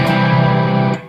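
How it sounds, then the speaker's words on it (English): Electric guitar through an MXR Badass 78 pedal in overdrive holds one thick, sustained chord with rich, fuzzy harmonics, loud and close, before it is cut short. "I'll show you the overdrive sound first"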